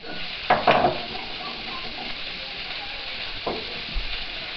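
Meat frying in a paella pan, an even sizzle with a few louder scraping stirs and a soft clink, close and moderate.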